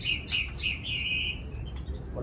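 A white-rumped shama, its coat moulting to black, sings in a rapid run of bright whistled and chirping notes, close and clear over a low background hum.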